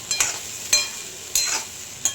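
Okra stirred and roasted in a pan at home for a bhaji, with a string of scraping stirs and light sizzling, four distinct strokes close by and no talking.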